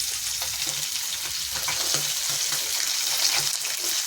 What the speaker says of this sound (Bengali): এই মাছগুলো খুব আস্তে আস্তে তুলতে হবে, কারণ এর প্রচুর ফোটে।